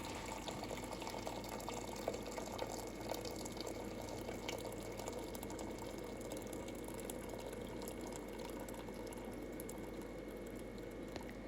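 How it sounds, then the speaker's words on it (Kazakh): Hot boiling water pours steadily into a pot, a continuous liquid rush and splash lasting several seconds with no talk, close and even in level. "Қайнап тұрған ыстық суымызды құямыз."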